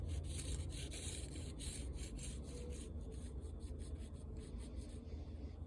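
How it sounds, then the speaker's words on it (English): A permanent marker rubs along the edge of a cowboy knife blade to mark the bevels, making a quiet, steady scratchy rubbing with faint repeated strokes and no talking. "Just going to use a permanent marker. Just mark the edge for the bevels."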